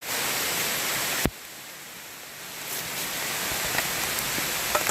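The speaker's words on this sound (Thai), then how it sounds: "ฝนตกครับพี่น้องครับ" Heavy rain pours down in a bamboo forest as a steady, dense hiss, with a sharp crack near the start and a few faint drips and knocks later.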